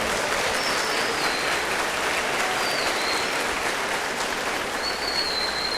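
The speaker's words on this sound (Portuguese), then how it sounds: "Você pode dar um aplauso ao Senhor?" A church congregation applauds in praise, with dense, steady clapping that fills the whole stretch evenly and carries no voices over it.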